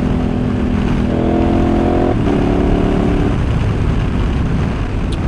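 A KTM Super Adventure S motorcycle engine drones loudly and steadily while riding, with a brief break and pitch change around two seconds in as the quick shifter and blipper swap gears.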